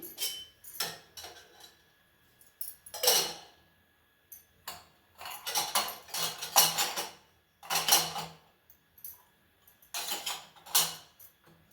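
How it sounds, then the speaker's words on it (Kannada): Steel vessels and containers clatter in bursts as they are set out in a small home kitchen, sharp clinks and knocks recurring every second or two with quiet gaps between. "ಅಡುಗೆ ಮನೆ ಚಿಕ್ಕದು ಅದಕ್ಕೇ ಪಾತ್ರೆಗಳು ಜೋಡಿಸ್ಕೊಳ್ಳೋದಕ್ಕೆ ಸ್ವಲ್ಪ ಶ್ರಮ ಆಗುತ್ತೆ"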